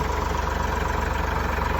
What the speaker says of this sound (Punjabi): ਜਨਰੇਟਰ ਤੇ ਲਾ ਲਈਏ ਟਰੈਕਟਰ ਨੂੰ ਚਲਾਇਆ ਹੋਇਆ ਅੱਜ